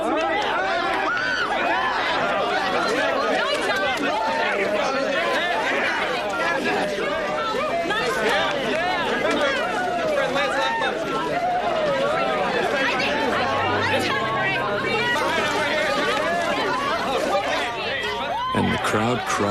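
A large crowd chatters and cries out together in a dense, continuous wall of overlapping voices at steady loudness throughout, on a soap opera set.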